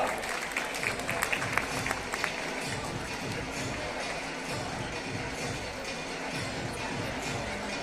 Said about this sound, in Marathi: जरा टाळ्या होऊ द्या।